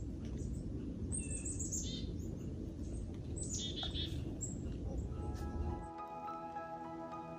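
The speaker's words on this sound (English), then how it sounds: "The songs of the birds will soon quiet until spring." Birds sing and chirp in trees near Lake Superior on the Keweenaw Peninsula on an autumn day, with scattered high calls over a low rumbling background that drops away near the end, leaving a steadier faint tone.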